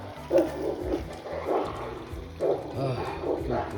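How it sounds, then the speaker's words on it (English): Dogs bark and growl at each other through a fence, close by in a quick, uneven series of gruff, rough calls with no talking. "They're barking at each other through the fence."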